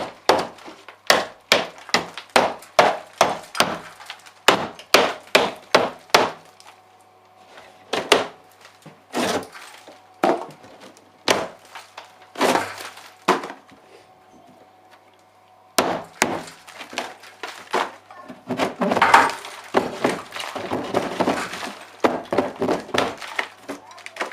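Wood being bashed out by hand to fit a stud during an upstairs bathroom suite replacement, with many sharp, loud knocks in fast bursts separated by short pauses.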